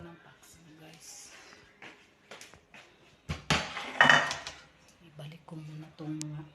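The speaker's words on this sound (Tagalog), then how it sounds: "Ibalik ko muna itong mga kaldero" Cooking pots used for making fish paksiw are handled and put away. Scattered metallic clanks and knocks stand out, the loudest burst in the middle, while a person talks throughout.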